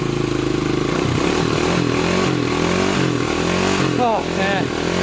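A kick-started Honda 250X motorcycle engine running and revving, loud and close, with a rough rising and falling motor note. A voice breaks in briefly near the end.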